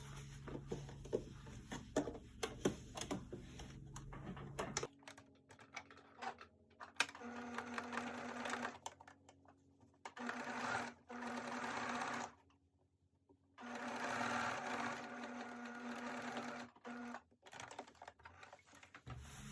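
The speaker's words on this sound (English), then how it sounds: "So now I am just going to very quickly zigzag stitch down my gusset." A sewing machine zigzag-stitches the gusset of a pair of underwear in several bursts of rapid, even whirring, separated by brief pauses, close and clear with no talking.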